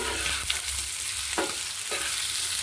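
Chicken liver fries in a pan with a constant crackling sizzle, while a spatula stirs and scrapes in several short strokes.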